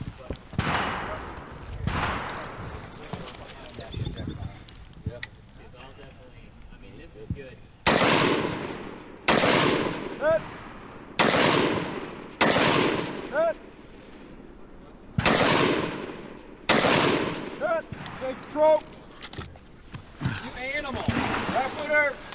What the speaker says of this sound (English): Shooting at 400 yards with this rifle Really wasn't that hard.